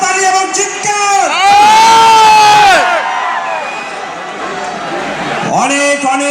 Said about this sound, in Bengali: তার জন্য আরো একবার জোরে করতালি এবং চিৎকার।